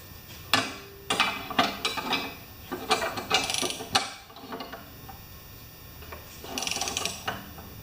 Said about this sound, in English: get this flywheel off with the puller